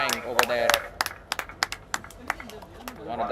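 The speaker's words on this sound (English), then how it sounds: "Round of applause, guys." Round of applause from an audience at a college drone racing league qualifier, sharp scattered claps over background voices and crowd noise, fairly close.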